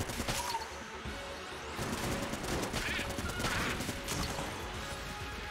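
Dense, continuous barrage of bullets firing in the dungeon shooter Enter the Gungeon, a steady loud clatter of small shots and impacts with no pauses, with faint game tones layered beneath.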